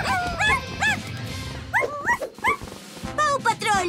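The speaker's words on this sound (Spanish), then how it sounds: "solo aúlla por ayuda" A cartoon dog voice yelps and howls in short rising bursts, several separate cries with whimpering between them, close and loud.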